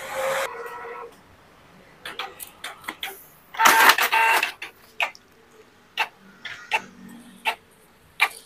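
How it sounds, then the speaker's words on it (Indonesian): Canon printer printing, with irregular mechanical ticks and clicks, a brief whirring burst of the paper feed near the middle, then more spaced ticks, close up in a quiet room. "Ini printernya jalan teman-teman, ini hasilnya juga bagus."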